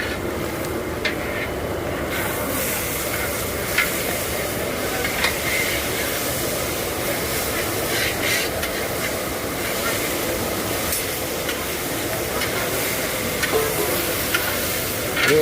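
Fried rice being stirred in a pan, a continuous close sizzle of frying with rhythmic scraping strokes and occasional clinks, while people talk in the background.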